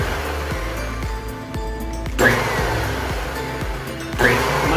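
A wood planer runs steadily with a broadband motor whine, and repeated low thumps mark its wheels turning; two brief louder surges rise over the continuous drone.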